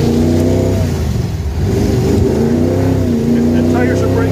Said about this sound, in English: The tires are breaking loose.